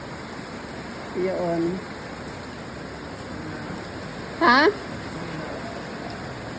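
Steady rain falls outdoors in the Philippines during a power outage, a continuous even hiss throughout, broken by two short spoken words from nearby people.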